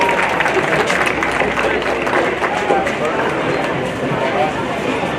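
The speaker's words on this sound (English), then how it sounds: "We can go give them a round of applause" Audience applause in an arena at a junior livestock show, a dense, steady clapping from a crowd lasting several seconds.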